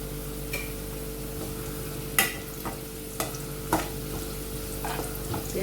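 Onions browning in two tablespoons of oil in a cooking pot, a steady low sizzle broken by a few sharp scrapes and clinks as they are stirred, with no talk.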